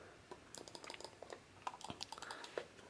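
Two vintage Apple Desktop Bus mice give quick, irregular clicks as their buttons are pressed repeatedly. The clicks are close but quiet, with no talking.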